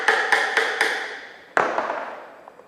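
A hammer drives a chisel into timber while the workpiece is cut to shape, with four quick, sharp taps in a steady rhythm, then a pause and one heavier strike, all close and clear.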